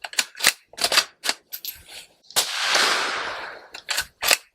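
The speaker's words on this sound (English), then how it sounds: "it's crazy how the round sounds when it hits" Ruger Predator Generation II rifle in .223 Rem fired outdoors: a run of sharp, close cracks, then one heavy broadband blast with a long, rolling decay, followed by more quick snaps.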